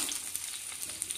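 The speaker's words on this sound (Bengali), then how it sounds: "এবার আমি দেখো কেটে রাখা আলু ভেজে নেব।" Diced potatoes sizzle steadily in hot mustard oil in a kadai, a continuous bright frying hiss with faint crackles, close and alone.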